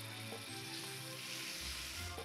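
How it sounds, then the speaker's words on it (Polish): Meat sizzling steadily in a frying pan with thick-cut shallot pieces over low heat, a continuous close crackle with small spatters and no voices. "Mięso się smaży"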